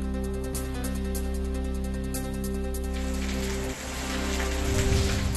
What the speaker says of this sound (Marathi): जळगावात मुसळधार पावसानं हवेत गारवा निर्माण झालाय